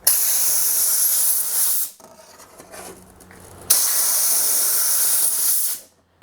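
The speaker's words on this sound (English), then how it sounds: "What I do is I line up the bar like this, and I blow all the dirt toward the back of the bar." Compressed air blasts dirt off a STIHL chainsaw bar with a loud, steady hiss, cutting out for a couple of seconds of quiet handling noise before a second long burst.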